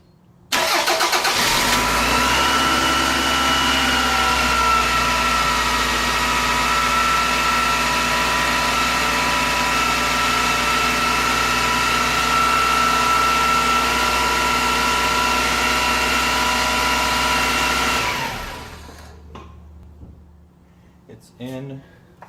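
A car engine cranks and catches just after the start, then idles steadily and evenly for about seventeen seconds before shutting off, followed by a few faint clicks and handling noises. This follows a PCV valve, hose and grommet replacement.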